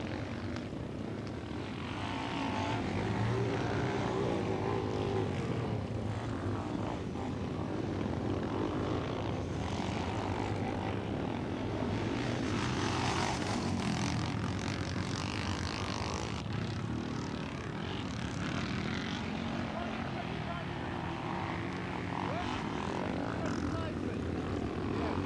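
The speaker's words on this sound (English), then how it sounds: "He pulls out as John Pullman for Surrey and Sussex goes through" Motorcycles, including a 600 KTM, race on a grass track at a 1984 AMCA meeting, a steady loud engine drone sustained throughout with no pauses, broad and continuous like machines passing and circling nearby.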